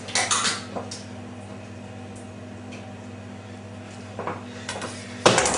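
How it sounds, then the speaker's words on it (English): A knife is wiped and clattered during salmon filleting: metallic scrapes and clinks of blade and utensils cluster at the start and end, with a quiet steady hum between, close by and without voices. "let's give the knife a clean"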